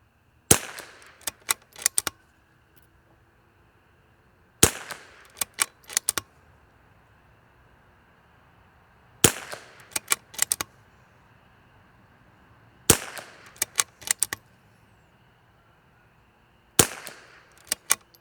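Sharp rimfire rifle shots from L3I Stinger ammunition, each crack followed by a short cluster of smaller clicks and clatters, repeating in five evenly spaced bursts several seconds apart, loud and close with quiet gaps between.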